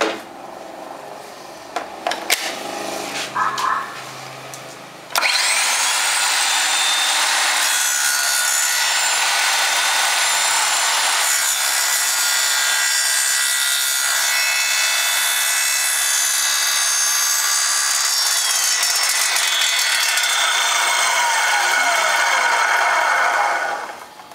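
A battery-powered cutting tool runs steadily through thin wood after a few seconds of light handling noise, its loud whining buzz holding for most of the clip before tapering off at the end.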